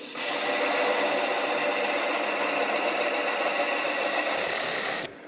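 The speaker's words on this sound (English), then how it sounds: "now I'm going to make the cutoff. And I'm taking a very small parting chisel" A small parting chisel cuts into a turning piece of wood on a lathe, a steady close whirring buzz that holds evenly for about five seconds and then stops abruptly.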